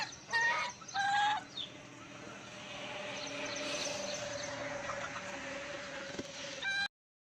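Village hens and their chicks make a loud burst of clucking up close, then a quieter stretch of peeping and farmyard murmur, and a final sharp cluck before sudden silence.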